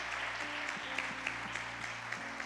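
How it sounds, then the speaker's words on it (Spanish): A church congregation at a couples' meeting claps steadily for the married couples, a soft, continuous patter of hands from a crowd heard at a distance. "Les damos un fuerte aplauso a estos matrimonios maravillosos que están aquí"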